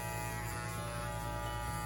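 An electric hair clipper buzzes steadily during a haircut, a close, continuous motorized hum with no pauses.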